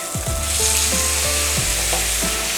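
Chicken with diced tomato and pepper sizzles loudly in a cast iron skillet, a steady frying hiss punctuated by scraping and stirring strokes of a utensil against the pan.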